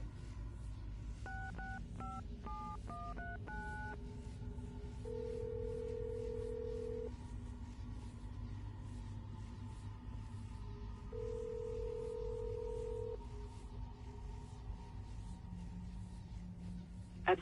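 Telephone keypad tones from Assassin's Creed: Brotherhood: a quick run of eight or so DTMF beeps as a number is dialed, followed by two long steady ringback tones over a low ambient game hum, with no talking.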